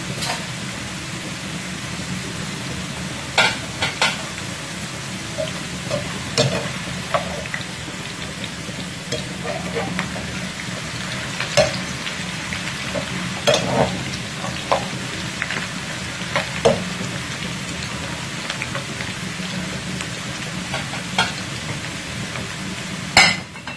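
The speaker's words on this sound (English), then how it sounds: "While I'm doing my potatoes, I'm going to fry the gizzard." Gizzard frying in a pan with steady close sizzling throughout, broken by clinks and scrapes as it is stirred, with no talking.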